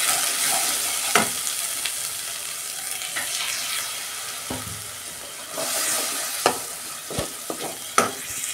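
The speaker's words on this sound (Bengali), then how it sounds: "মশলাটা আমি ভালো করে 2 মিনিট কষতে নেবো" Ginger, garlic and dried chilli paste sizzles in hot oil with turmeric added, a steady broadband fry broken by occasional spoon scrapes and clinks against the pan, close and fairly loud with no talking.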